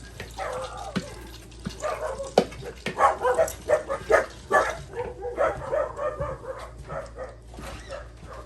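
Several dogs bark and yip repeatedly outdoors in the Appalachian countryside while running a deer, the barking rising in bursts at mid distance with a faint background of rushing water.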